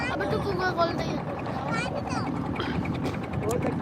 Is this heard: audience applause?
no